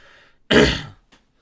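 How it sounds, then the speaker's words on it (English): A single sharp, close cough, loud and brief, followed by a faint breath, with near silence before it. "Sorry for that that cough."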